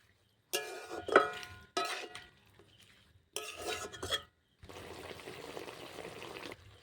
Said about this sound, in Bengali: এরপর ভালো করে আবার একটু নাড়িয়ে দেব।